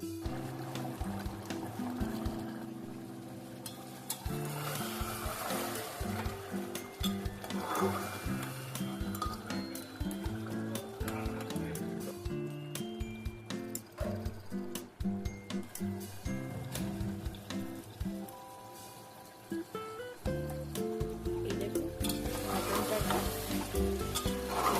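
Mutton sizzles as it is fried and stirred in a pressure cooker for mutton kosha, with continuous close frying hiss, uneven scraping and clattering of a ladle against the metal, and a brief louder burst of sizzle near the end.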